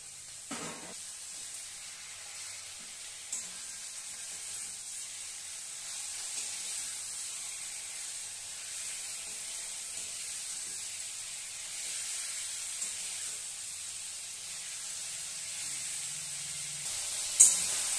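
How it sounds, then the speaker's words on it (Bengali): Chicken pieces fry in a pan over a low-to-medium gas flame, a steady soft sizzle and hiss that runs unbroken throughout, with a few faint clinks of stirring. "গ্যাসের ফ্লেমটা লো টু মিডিয়ামে রেখে ভালো করে কষিয়ে নিচ্ছি।"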